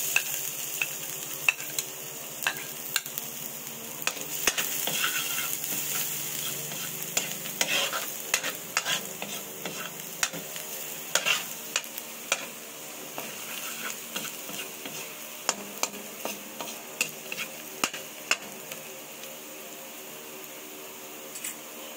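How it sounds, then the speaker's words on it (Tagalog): Garlic frying in hot oil while a spatula stirs and scrapes the pan, a steady close sizzle broken by frequent sharp utensil clicks throughout, with no talk. "mainit na ang ating mantika. Pinalat ko lang. Ayan. Lagay natin ating garlic."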